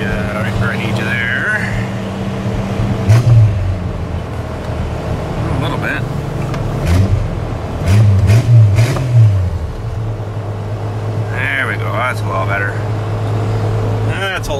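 Jeep engine idling after a cold start, a steady low rumble running throughout with a couple of brief revs swelling louder mid-way, close and continuous.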